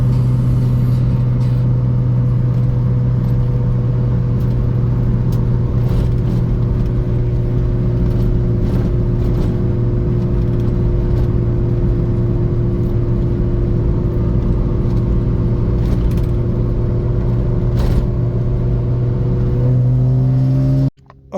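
A BMW E46 car driving steadily with a worn front control arm, giving a continuous low engine and road drone with a humming vibration throughout, loud and alone, ending abruptly.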